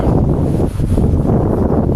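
Steady, loud wind on the Gürpınar coast buffeting the microphone, a continuous low rumbling roar with gusty fluctuations and no voices.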